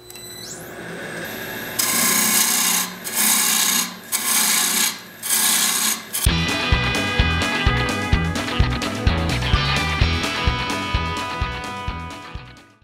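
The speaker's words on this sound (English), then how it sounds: "now a little bit of work with my skew chisel right in here" A skew chisel cuts a long wooden goblet stem spinning on a lathe, first in several loud scraping passes separated by short breaks, then a continuous rhythmic rasping chatter as the tool rides the turning wood.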